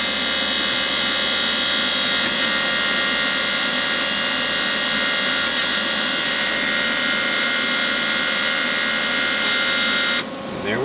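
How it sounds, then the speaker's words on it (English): Steady mechanical whine of the cold wire feed motor on a Vulcan Omnipro 220 welder, running continuously at close range with a constant tonal hum, then cutting off abruptly near the end. "We'll press the cold wired feed."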